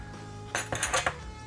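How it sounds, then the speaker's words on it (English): Spoon stirring Cajun seasoning into mac and cheese in a bowl, a short cluster of four or five quick scraping clinks against the bowl over a steady background hum, close and fairly soft, without speech. "give that a good stir"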